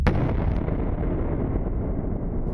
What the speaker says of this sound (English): with the explosives wired to the switch, countdown in 3, 2, 1